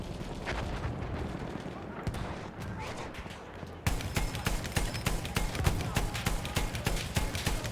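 Rapid gunfire from a shotgun in the video game Battlefield 1, with a dense burst of sharp, evenly spaced shots in the second half, louder than the scattered shots and game noise before it.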